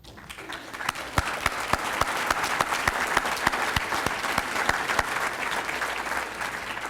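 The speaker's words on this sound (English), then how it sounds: "Would committee members please stand and let's give them applause." An audience in a hall gives sustained applause for the education committee members as they stand at a school district's State of the District address, with dense, even clapping swelling quickly and holding steady to the end.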